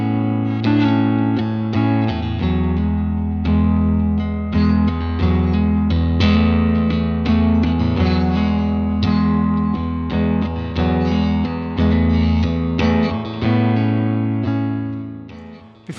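Electric instrument played through a Boss RE-202 Space Echo tape delay pedal, loud sustained chords and plucked notes with repeating echoes and reverb tails trailing off, continuous for the whole stretch and without any talking.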